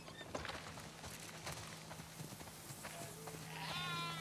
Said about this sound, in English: Listen up, sheep. Your dinner awaits you in the barn.